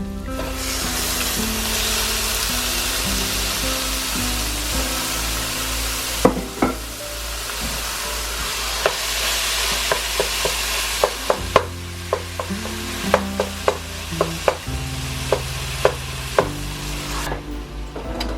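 Hamburger meat sizzles loudly in a hot pan for a 1950s-style dinner. A utensil stirs and scrapes through it, and the frying hiss is joined later by a series of distinct knocks against the pan.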